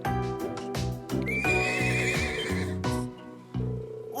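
A horse from the Nord Highlands in the Trails of Cold Steel video game gives a loud, close whinny, rising into a shrill quavering neigh over steady in-game music, with no talk.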